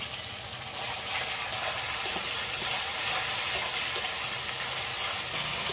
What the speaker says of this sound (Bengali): এই মশলার বাটি ধোয়া জল অল্প করে একটু দিয়ে দিচ্ছি।